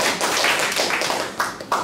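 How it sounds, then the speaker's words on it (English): Applause at a Toastmasters club meeting welcomes a speaker to the front: a short, dense burst of many hands clapping close by, with a few sharper taps near the end. "give him a round of applause"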